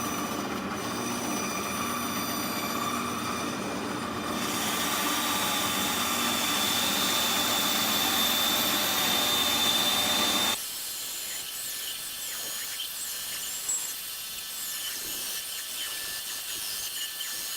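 A bandsaw cuts a circle in a workshop, a steady whining hiss with a thin tonal ring that stops abruptly partway through, leaving low, quiet room noise.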